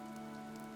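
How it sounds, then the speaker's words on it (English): Rainfall in the video game Fire Emblem: Three Houses, a soft, even wash of drops over a steady tonal background, with no voices. "This rain threatens a coming storm."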